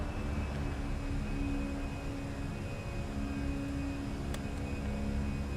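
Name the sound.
Airbus A320 engines at climb power in flight simulator game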